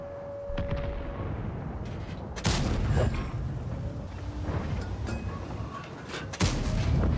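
Tank cannon fire in a tank video game, with heavy booming shots, two especially loud blasts standing out over a constant rumbling battle background, without talk.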